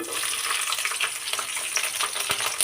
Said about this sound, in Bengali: তেলটা দিয়ে দেওয়ার পর এখানে আমি কিছু কাঁচামরিচ দিয়ে নিব কাঁচামরিচ পাকামরিচ দুইটাই দিয়ে নিছি